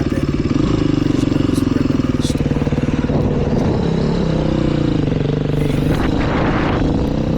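A 2020 Beta 500 RR-S dirt bike ripping through the desert, its engine loud and close with a rapid pulsing note that rises and falls as the throttle changes, and a voice speaking briefly over it.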